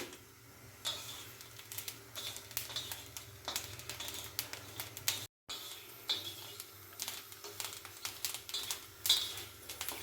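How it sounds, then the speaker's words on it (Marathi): Green chillies dry-roasting in a pan without any oil give off sparse, faint crackles and ticking pops over a quiet background, with one brief dropout midway. "मिरच्या आपल्याला चांगल्या अशा चटचट वाजून त्याच्यावर डाग पडेपर्यंत चांगल्या भाजून घ्यायच्या"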